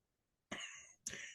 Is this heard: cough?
yes